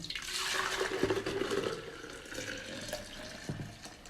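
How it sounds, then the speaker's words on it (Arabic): Laban, a yogurt drink, pours into a jug in a steady liquid stream that gradually fades, with a few light clinks near the end. "هسه بعد ما جهز عندنا اللبن، نجيب دولكة ونبدي نفرغه"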